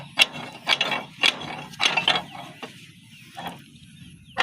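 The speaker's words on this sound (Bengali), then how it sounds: "আমরা এখন লাইনার এবং পিস্টন একসাথেই বের করে নেব" The cylinder liner and piston are pulled together out of a loose-fitting power tiller engine block with a rod puller, making a series of sharp metallic clanks and scraping knocks, close and irregular, with pauses between them.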